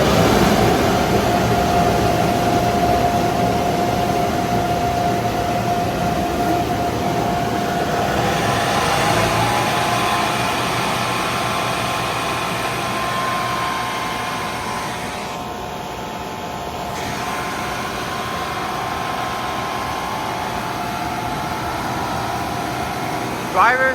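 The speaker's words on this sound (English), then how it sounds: "This spot-free rim dryer should come up right now." At a 24-7 Oasis Typhoon automatic car wash in San Antonio, Texas, a spot-free rim dryer blows a steady, loud rushing roar that continues with little change for the whole stretch.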